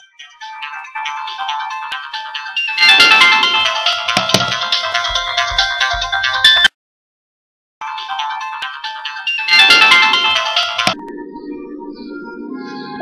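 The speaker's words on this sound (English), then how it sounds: "And my cell phone is ringing." A cell phone ringtone rings loudly and close, a bright electronic melody playing in two long bursts separated by a brief silent gap.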